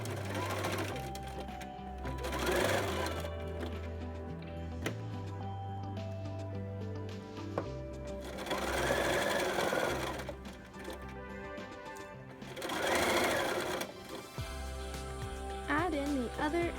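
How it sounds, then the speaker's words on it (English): A sewing machine zigzag stitching close to the edge of a fabric face mask, running in steady bursts of rapid mechanical ticking that speed up, pause and resume, with a low motor hum throughout. "you're going to zigzag very close to the edge"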